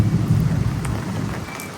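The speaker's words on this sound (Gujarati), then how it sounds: "વરસાદ વધી ગયો છે" Heavy rain pours near Bortalav lake in Bhavnagar during a thunderstorm, a loud dense hiss with a deep low rumble of thunder rolling underneath, no voices.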